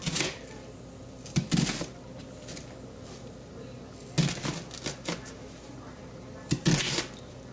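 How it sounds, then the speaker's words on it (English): A knife slices through a halved onion from top to bottom, giving three crisp, separate cuts spaced a few seconds apart, close and fairly quiet against a faint background hum. "And once it's cut in half, you cut from top to bottom."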